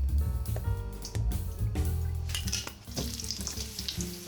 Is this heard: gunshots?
no